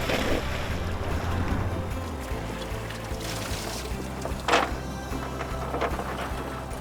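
Many boats out on open water on opening day of snapper season, a steady engine rumble mixed with wind buffeting and splashing waves, loud and continuous.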